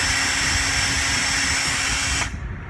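A power drill whines steadily and loudly at close range while unscrewing the long pins from a Minn Kota trolling motor lower unit, then stops abruptly near the end.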